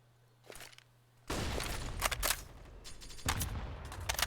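Automatic gunfire rattles in the video game Counter-Strike on the Inferno map during a pro esports match. Faint clicks give way to a loud, sustained burst of rapid fire, then a second burst, with no talk over it.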